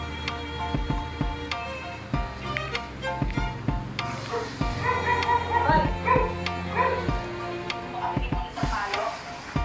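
A dog barks and yips repeatedly at close range, short sharp bursts with small whimpers in between, no talking.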